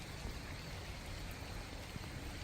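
Rain comes down hard and steady over water near a fishing dock, a dense even hiss at moderate level with no voices.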